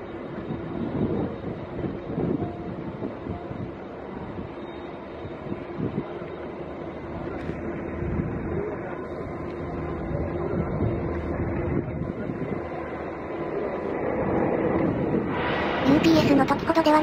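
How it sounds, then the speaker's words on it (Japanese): An Airbus A380 on a lightly loaded training flight takes off from Narita Airport's A runway, its jet engines a broad, steady roar that swells slowly and grows louder toward the end. "A380 にしてみればめちゃくちゃ速い離陸です。"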